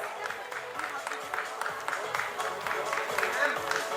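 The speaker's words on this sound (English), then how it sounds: "Let's give him a big round of applause." Audience applause at a felicitation ceremony: a steady, sustained burst of many hands clapping that keeps an even, dense texture for about four seconds.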